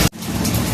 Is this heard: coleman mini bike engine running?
no